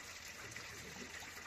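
Gravity-fed spring water from an off-grid supply runs steadily, a soft continuous gushing hiss, faint and unbroken.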